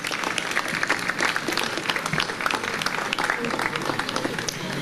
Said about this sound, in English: Another round of applause for our councilman-elect.